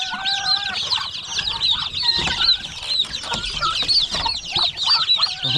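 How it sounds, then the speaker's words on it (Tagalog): A farmyard flock of chickens clucking, with high, rapid peeping from many chicks and ducklings throughout, close and fairly loud, mixed with other fowl calls. "Tapos meron pa dito mga sisiyo ng manok."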